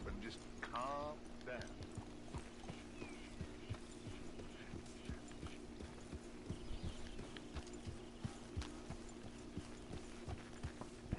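Horse hooves clip-clop in Red Dead Redemption II, a steady rhythmic trot of light thuds repeating throughout over a low hum, with a brief whinny-like sound near the start.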